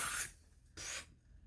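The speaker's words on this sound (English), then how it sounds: "It says shake well spray all over hair." A rose and peach hair mist is sprayed in two short hissing bursts, close and fairly soft, separated by a brief pause and heard without any talk.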